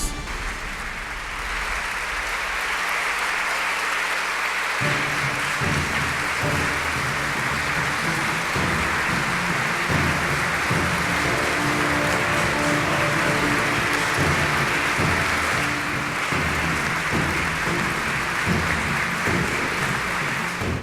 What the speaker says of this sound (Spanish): Cuando Iván se paró frente al estrado, los aplausos fueron extendidos